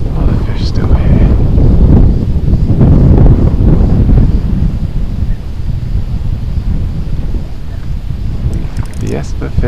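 Strong wind buffets a fishing kayak on a lake, roaring across the microphone as loud, continuous rumbling gusts that ease slightly partway through.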